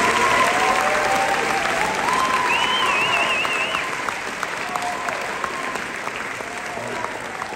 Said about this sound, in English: let's have one more round of applause for all these students and their wonderful music